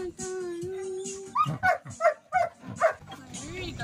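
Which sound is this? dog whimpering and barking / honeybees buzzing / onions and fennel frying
dog whimpering and barking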